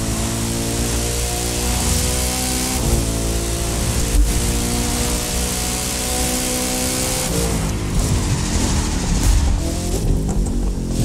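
Koenigsegg Jesko hypercar engine in the racing game The Crew 2, a steady loud drone with layered harmonics holding and shifting, continuous throughout with no talk.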